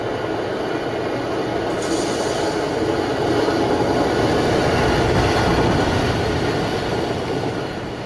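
A train in the factory-building game Satisfactory rumbles past continuously and loudly, with a dense rolling roar of wheels on rails that holds steady for several seconds.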